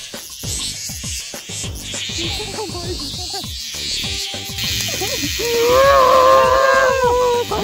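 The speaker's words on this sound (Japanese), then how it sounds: "熊ゼミだよ。" Bear cicadas (kumazemi) drone in a dense, loud, continuous buzz through summer trees, with a harsher pulsing call growing near the end and other insect noise around it.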